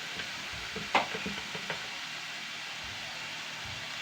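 Cabbage stir-frying in a pan with turmeric, asafoetida, garam masala and salt, a steady soft sizzle with a few scraping stirs of a spoon near the start, no talking.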